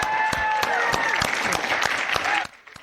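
A school audience applauds and cheers, with dense clapping and raised voices holding steady for a couple of seconds before cutting off sharply.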